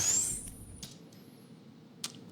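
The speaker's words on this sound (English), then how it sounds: "and another camera flash charge." A camera flash charges with a thin, high rising whine at the start, followed by faint mechanical clicks and a soft tick near the end, all quiet and close.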